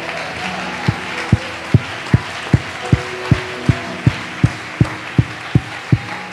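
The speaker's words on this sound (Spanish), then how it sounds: "Si alguien puede dar un mejor aplauso, lo invito a que lo haga en esta hora" Congregation in a Pentecostal church clapping in unison, loud evenly spaced claps roughly two per second building in strength over a backdrop of music and room murmur.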